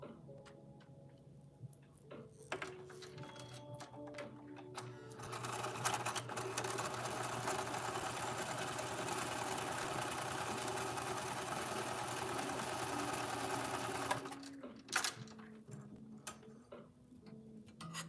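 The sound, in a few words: sewing machine stitching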